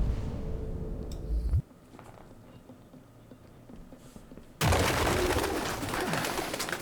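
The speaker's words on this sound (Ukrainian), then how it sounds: "Голуби." Soft, low cooing of pigeons in the video game Detroit: Become Human, repeated in gentle throaty murmurs, set against shifting background noise that drops out and then returns with a loud hiss.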